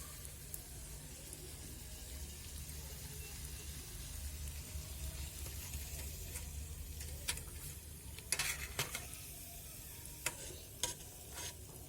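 Papad rose shapes frying in a pan of oil give a soft, steady sizzle. Light ticks and scrapes from stirring sound now and then, quiet and close, with no talking.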